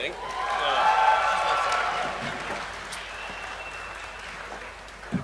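A burst of applause swells from a convention crowd at MomoCon, peaking early and gradually fading out over a few seconds.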